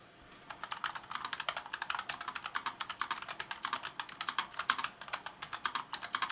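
Rapid clacking keystrokes on a NuPhy Air75 mechanical keyboard with brown switches, a steady stream of close, crisp taps with no talking.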